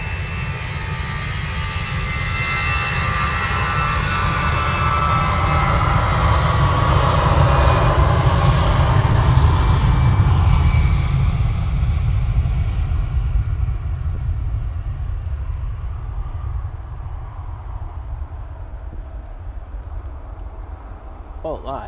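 An EasyJet jet makes its takeoff roll at Manchester Airport, its engine roar building to a loud peak midway, then fading steadily into the distance.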